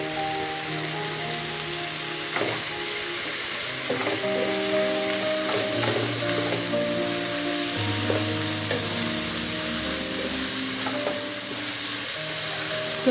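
Biryani masala, with salt added, is sautéed in a pan on a low flame for chicken biryani, giving a steady close sizzle with occasional stirring scrapes and clinks, and no talking.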